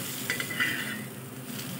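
Dahi dhapate, a Marathwada-style yogurt flatbread, roasting on a hot pan after being flipped, with a steady soft sizzle and a few faint scraping touches near the start, close and fairly quiet, no talking.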